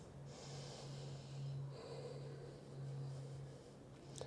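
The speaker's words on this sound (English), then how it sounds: "One more full breath in" Slow, deep yoga breathing during a hamstring stretch, soft airy inhales and exhales close to the mic with a low steady hum underneath and no talking.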